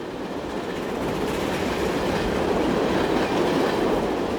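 A goods train rolls along the rails in the railway-building game Transport Fever 2, producing a steady, close rumble with a faint clickety-clack of wheels that builds slightly and continues throughout with no talking.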